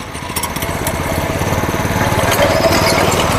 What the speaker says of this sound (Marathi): हाफ गिअर जर पडला अर्धवट तर तुम्हाला तसा आवाज येतो